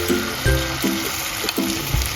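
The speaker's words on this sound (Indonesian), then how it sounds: "Lanjut lagi kita goreng adonannya sampai selesai." Bakwan, an Indonesian vegetable fritter batter, sizzles in hot frying oil. A steady close hiss of frying runs throughout, with soft bubbling pops and occasional clinks, and no talk.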